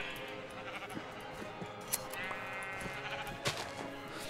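Sheep bleating in Minecraft, several wavering bleats in a row with soft clicks and ambient game sounds around them and no talking.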